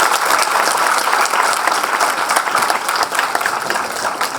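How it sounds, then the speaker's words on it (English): A crowd at a Bengaluru literary event breaks into steady applause, a dense, loud wash of clapping that holds without pause. "Please give them a big round of applause."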